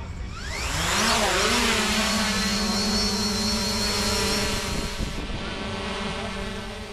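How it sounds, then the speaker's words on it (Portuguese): A drone lifting off near the Museu do Ipiranga gives a loud, close, steady high-pitched propeller whine that rises in pitch at the start and then holds for several seconds. "E uma drone vai para os ares."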